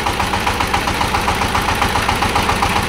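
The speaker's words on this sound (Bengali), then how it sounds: "সাউন্ড দেখতেছেন নতুন ইঞ্জিনের মতন টনটনা সাউন্ড।" A little-used machine with a well-kept engine runs at a steady idle, close and loud, with an even, rapid knocking pulse throughout and no talk.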